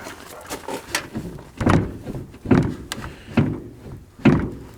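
A heavy car driver's door on worn, loose hinges is worked back and forth, producing repeated loud creaks and metallic clunks at a regular pace, close up.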